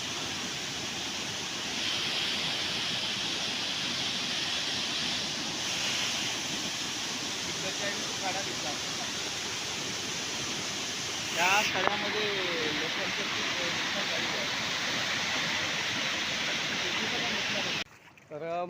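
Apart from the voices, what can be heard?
floodwater surging in Konkan during heavy rain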